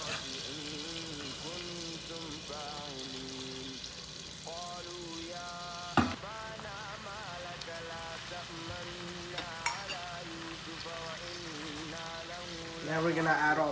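Garlic sizzles in a hot pan while vodka pasta sauce with shrimp is cooked, a steady faint hiss running under prominent melodic background music, with one sharp knock around the middle.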